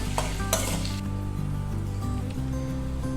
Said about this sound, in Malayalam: ഇഞ്ചി ചെറുതായി അരിഞ്ഞത്, 3 പച്ചമുളക്, ഇതെല്ലാം കൂടെ നന്നായിട്ടൊന്ന് വഴറ്റിയെടുക്കണം